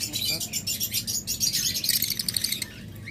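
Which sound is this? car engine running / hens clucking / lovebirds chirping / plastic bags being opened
lovebirds chirping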